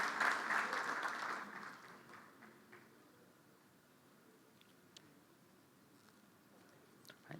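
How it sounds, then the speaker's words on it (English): Conference attendees clap for a panel, a short burst of applause that is strongest at first and quickly dies away, leaving a quiet room with a few scattered late claps and small knocks. "big round of applause, please, for our panelists and for Mustafa for handling the panel"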